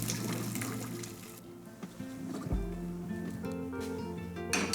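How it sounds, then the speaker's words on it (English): Pasta water is drained from a pot in a kitchen, giving a continuous pouring and splashing sound over background music, with a low gush partway through. "Water can be drained"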